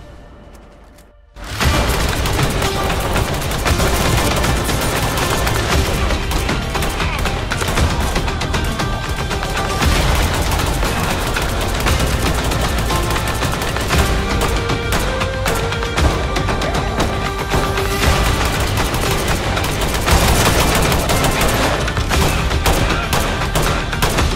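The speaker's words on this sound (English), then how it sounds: "It's a fun gun to use, and gives you more optics to choose from than the SLR-47 it replaces." Rapid, sustained gunfire from a rifle in the tactical shooter Ready or Not, loud and dense bursts running nearly continuously after a brief quiet start, with booming reports layered throughout.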